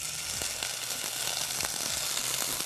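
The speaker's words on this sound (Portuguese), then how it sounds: "enquanto o frango ele tá grelhando" Marinated chicken fillet with rosemary and a fiber crust sizzles in a frying pan, giving a steady close hiss dotted with small pops and crackles, with no voices.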